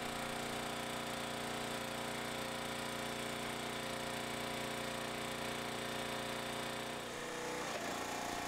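A Harbor Freight towable backhoe trencher fitted with an upgraded hydraulic pump runs steadily, its loud, continuous engine drone close and unbroken, with a brief shift in tone near the end as the machine works.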